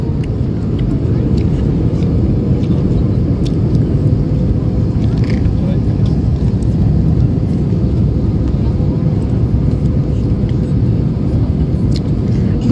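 Inside a passenger airplane descending to land at Brussels airport, a loud, steady low engine and cabin roar fills the whole stretch without letting up.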